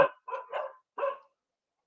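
Several dogs in a corral bark excitedly at workers arriving out front, four or five sharp, close barks in a quick irregular burst, with no talking over them.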